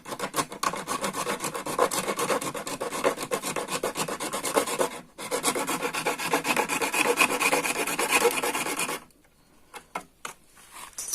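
Plastic motorcycle mudguard for an RS 200 being cut and rasped with a file, a steady run of close, rough scraping strokes for about nine seconds, then a pause with a few scattered scrapes.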